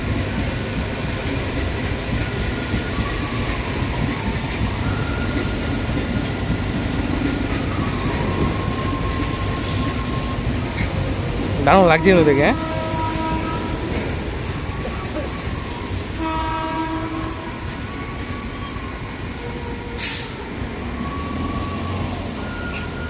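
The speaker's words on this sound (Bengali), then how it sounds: "ফাঁকা গেল পুরো ট্রেনটা" A long empty passenger train, likely running from Krishnanagar toward Sealdah, rumbles steadily through a station, with continuous wheel and carriage noise throughout and a brief horn or squeal midway; people talk briefly over it.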